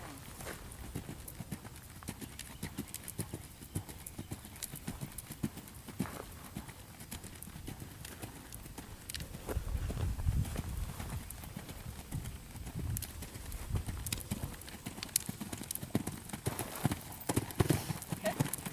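Horse hooves clip-clopping at a steady walking rhythm, fairly close, with outdoor background noise and a slightly louder stretch near the middle.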